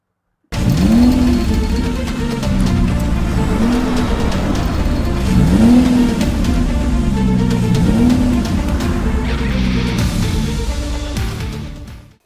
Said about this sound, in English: Now, I will take this car for a test drive and we will see how it performs